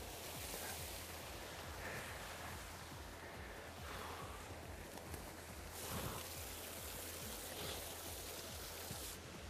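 Rushing water from Winifred Falls and the creek below it, a steady broadband roar that fills the whole clip without pause, fairly close and continuous, with no voices over it.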